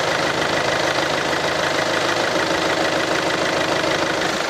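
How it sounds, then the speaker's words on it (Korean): Engine of a used Kia All New Carnival 9-seater minivan with about 130,000 km idles with the hood open, a steady close rumble with a fine ticking texture running unchanged and without talk. "엔진 소리 들어보도록 하겠습니다."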